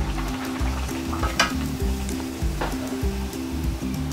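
Poori dough fries in hot oil with a steady, crackling sizzle and bursts of bubbling, close and continuous, with no voices.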